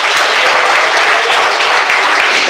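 A church congregation applauds during a service with loud, dense, sustained clapping that fills the whole moment.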